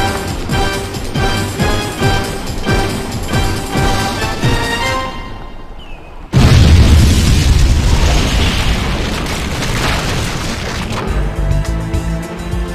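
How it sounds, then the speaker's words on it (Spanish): A massive explosion in the video game 007: Nightfire, bursting in suddenly and loud over music, with a deep booming rumble that lingers and slowly fades as the score returns. "Es increíble la explosión que hubo acá."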